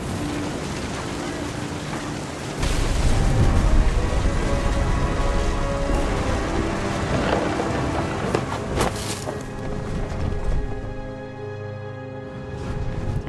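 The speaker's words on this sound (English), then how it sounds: "The thunder sounded much too close and full of angry power" Heavy thunderstorm rain in the video game What Remains of Edith Finch, a dense loud downpour that swells after a couple of seconds, with rumbling thunder and wind, then eases slightly toward the end.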